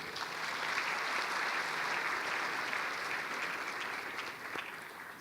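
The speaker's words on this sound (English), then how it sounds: "Shall we give them a round of applause?" Audience applause for finalists at the NSTF-South32 science awards ceremony, a sustained, even wash of many hands clapping that holds steady for the whole stretch with no voices over it.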